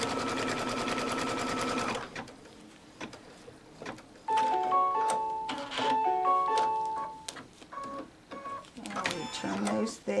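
An embroidery machine sews a tack-down stitch on scrubbies, starting with a steady rapid stitching run, followed by softer mechanical ticks and tones while a person speaks.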